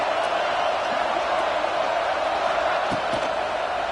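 A football stadium crowd keeps up a loud, sustained roar of cheering at a college game. The noise holds broad and even across the whole clip.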